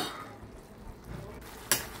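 Spices are stirred into chicken curry in a pan, giving soft scraping and a gentle sizzle, with a sharp utensil clink near the end.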